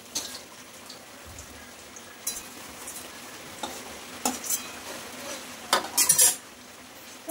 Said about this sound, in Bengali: এবার বেগুন কটা ভাজা হয়ে যাবে।